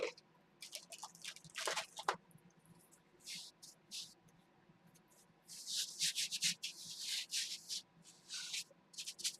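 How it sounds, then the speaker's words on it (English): A foam stamp is wiped clean with rubbing alcohol, giving soft, close rubbing and scrubbing strokes in irregular bursts, with brief quiet gaps between them. "I can actually even clean it off with a little bit of rubbing alcohol"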